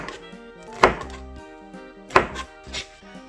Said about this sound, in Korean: 먼저 파프리카 먼저 썰어보겠습니다